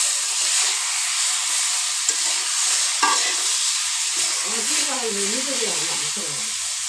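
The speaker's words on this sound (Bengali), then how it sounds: "এখন মাছের মাথাগুলো ভেজে নিচ্ছি" Fish heads fry in a pan with a continuous loud sizzle and hiss, broken by occasional stirring clacks, while a faint voice drifts in underneath near the end.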